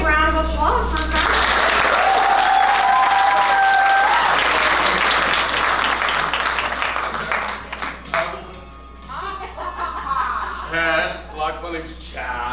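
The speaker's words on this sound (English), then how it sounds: "Let's give a big round of applause for that." Loud applause from an audience at a Level 3 class show fills the first eight seconds, then fades as voices take over and talk.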